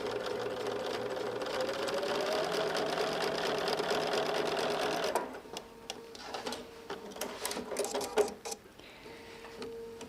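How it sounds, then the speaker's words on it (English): Sewing machine stitching along a marked line on fabric squares for a quilt block, a steady close whirring run for about five seconds, then stops, followed by light handling clicks and rustles. "So I'll take it to my machine, and let's just sew right along that"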